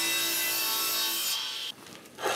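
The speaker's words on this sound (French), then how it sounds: "on va faire avec ma petite scie que j'adore quand même" A small hand saw cuts through maple and walnut boards for a hi-fi rack lid, giving a close, steady rasping stroke that slows and stops near the end.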